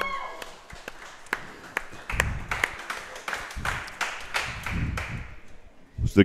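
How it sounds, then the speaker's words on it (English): A crowd at a Georgetown Eagles coaches show applauds with scattered, uneven claps that swell into fuller clapping and then thin out. A few sharp snaps stand out near the end, and no one speaks over it. "Let's give a round of applause for your Georgetown Eagles"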